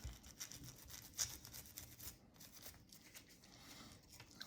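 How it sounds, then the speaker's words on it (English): A brush scrubbing custom pistol parts during cleaning, a faint, continuous bristly rasp with quick back-and-forth strokes close up and no talking. "So we're gonna scrub this real quick and then wipe it down as well."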